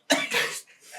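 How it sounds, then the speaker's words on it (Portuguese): A voice acts out a harsh cough during a Portuguese tabletop Dungeons & Dragons roleplay: a sharp opening burst, a second rasping push, then a weaker trailing hack, all close and fairly loud. "Estás com gripe, com muita tosse."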